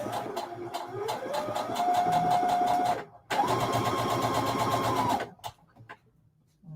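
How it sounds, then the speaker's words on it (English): A sewing machine stitches pieces of a Lori Holt Autumn Quilt Seeds pumpkin quilt block. It makes a steady, close, rhythmic whir for about three seconds, pauses briefly, runs again for about two seconds, then stops. "And we're just going to sew 8 of these."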